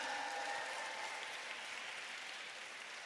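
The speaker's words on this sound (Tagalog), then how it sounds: "palakpak na mga pinagpala" A church congregation at an El Shaddai parish anniversary celebration applauds in a steady, dense wash of clapping that holds evenly and fades slightly toward the end, with no voices over it.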